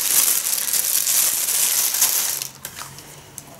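A small plastic bag crinkles loudly and close while a KITFORT KT-803 kitchen scale is unpacked, a dense rustle that fades into a few lighter crackles near the end.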